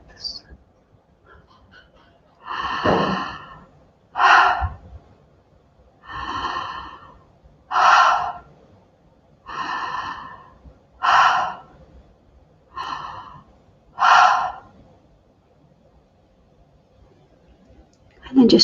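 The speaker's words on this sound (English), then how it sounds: "just repeating those 4 conscious connected breaths" Eight deep, forceful breaths in a conscious connected breathing exercise, each a loud breathy inhale or exhale about a second long, evenly spaced with short quiet gaps between them.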